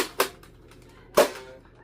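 A Nerf Rival Edge Jupiter blaster fires two sharp, snappy shots about a second apart, close and loud against a quiet room.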